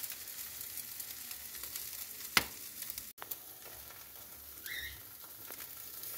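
Contrafilé steak sizzles on a grill after being flipped: a soft, steady crackling hiss running alone at low level, broken by one sharp click and a brief thump partway through.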